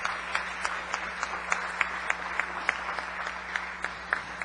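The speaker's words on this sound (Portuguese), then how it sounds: "A comunidade Terra de Adoradores, presente maciçamente nessa noite, nessa casa, a quem eu peço uma salva de palmas" A congregation applauds the Terra de Adoradores community at an evening archdiocesan preaching event, giving steady, moderately distant clapping with sharper individual claps standing out.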